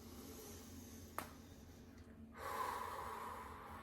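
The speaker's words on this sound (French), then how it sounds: "Donc, on inspire profondément." A slow, deep inhalation during a guided breathing exercise, faint and close, with a brief click before it and a soft, airy rush of breath in the final second and a half.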